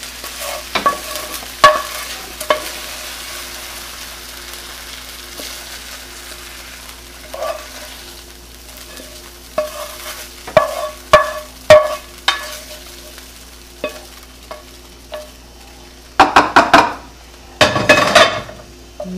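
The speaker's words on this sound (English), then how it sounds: "Delicious bowl stir fry with tofu and shirataki noodles." Vegetables, shirataki noodles and tofu stir-fried in a heavy pan: a steady faint sizzle under repeated scraping and clinking of a utensil against the pan, growing busier and louder toward the end.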